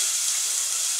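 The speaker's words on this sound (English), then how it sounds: "Nice sizzle." Steady, bright sizzling of spaghetti sauce or meatballs frying in a hot 4-quart saucepan, a continuous close hiss with no talking.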